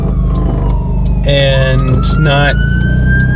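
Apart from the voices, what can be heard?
ambulance siren driving by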